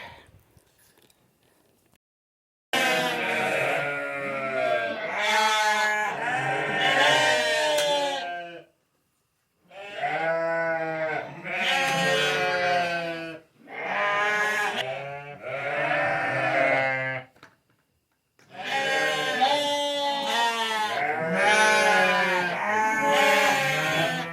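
Sheep bleat repeatedly on a farm, loud and close, several animals calling in long wavering bursts separated by brief pauses.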